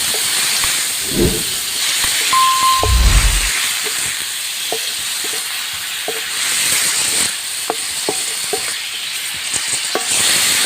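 Pork spare ribs fry in a pan with browned garlic and onion, giving a loud continuous hiss and sizzle with scattered pops and a few clanks of stirring from start to finish.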